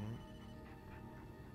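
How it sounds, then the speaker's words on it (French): A telephone in the Blair Witch video game rings with a faint, steady electronic tone that repeats through the short clip at low level, with no talk. "j'ai un son de téléphone"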